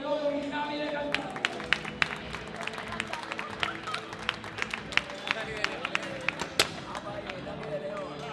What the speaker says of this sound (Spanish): Vamos a darles un aplauso a Dani de León y Javi de Cantabria.